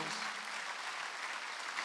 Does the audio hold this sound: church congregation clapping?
yes